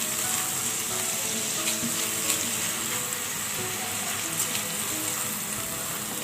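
Cumin, red chilli and black pepper sizzle in hot oil with a continuous close crackle and hiss, plus faint clinks of stirring, and no voices.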